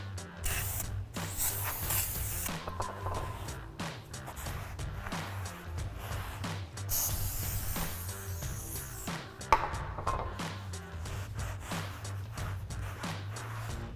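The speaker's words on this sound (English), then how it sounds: "we're just gonna grab some brake clean and a rag and just clean off both sides of the rotor" Brake cleaner sprays in long hissing bursts onto a 2019-2024 Chevrolet Silverado 1500 brake rotor, mixed with clanks and handling noises from the nearby workspace.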